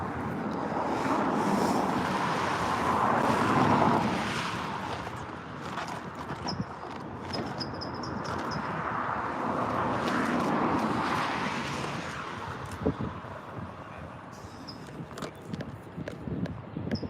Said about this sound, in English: Let's go to the 767 going to New York.